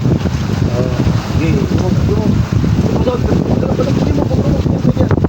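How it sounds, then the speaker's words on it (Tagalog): Heavy rain pours down with a dense, continuous roar and patter on a boat at sea, mixed with wind and scattered background voices. "lakas ng ulan"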